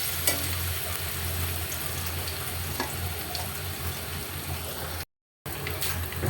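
Garlic and cumin seeds fry in oil in a pan while being stirred, a steady close sizzle with occasional scraping clicks of the spoon, broken by a brief silent gap.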